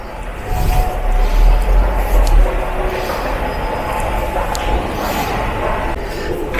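A metro train in a Bilbao station rumbles and rolls past, with a low heavy drone, faint wheel squeal and the hollow echo of the platform throughout.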